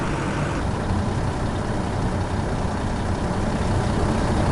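A tractor engine in the farming video game Professional Farmer 2017 drones steadily, a loud, unbroken low rumble with no pauses or talk.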